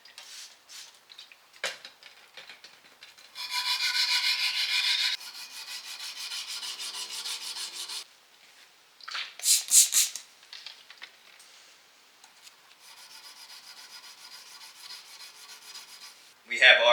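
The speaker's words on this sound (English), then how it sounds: "now we're going to get it nice and shined up in everybody's favorite segment," A Damascus steel belt buckle is sanded by hand, with bursts of harsh rasping strokes separated by short pauses, some long and steady and others quick and scratchy, close and fairly loud, with no talking.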